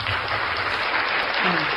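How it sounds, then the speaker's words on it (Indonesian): An audience at a Christian religious talk claps together: a dense, even wash of applause that holds steady throughout the brief moment, fairly loud and filling the room. "tepuk tangan untuk Yesus"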